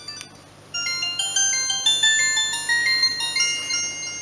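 An LG KF300 mobile phone plays a built-in polyphonic ringtone, a clear synthetic melody of sustained bell-like notes starting after a brief pause and continuing steadily, close and without voices.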